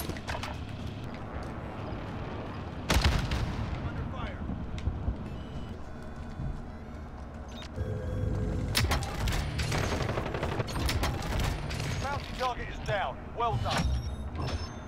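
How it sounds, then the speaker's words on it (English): Gunfire in Call of Duty Modern Warfare Plunder mode, with bursts and scattered shots, explosive thumps and mechanical clatter in a busy game mix; voices talk over parts of it. "Be looking at who's shooting at y'all, man."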